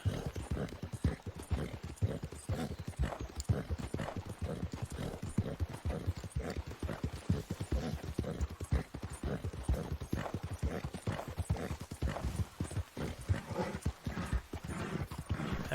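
Horse hooves clip-clop in a video game, a fast, continuous, evenly paced trot that stays loud and close throughout.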